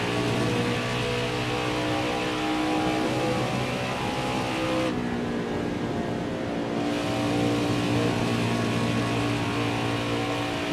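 A race truck engine in the video game NASCAR Heat 5 Truck Series drones loudly and steadily at high revs throughout, with a brief dip in the sound midway and no voices.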